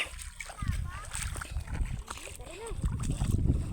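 Sea waves splash and slosh along the shore near Mount Bulusan in Sorsogon, with steady surf rushing close by under children's and adults' excited voices.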